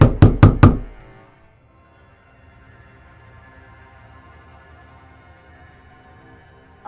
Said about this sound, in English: she hears a knock on her door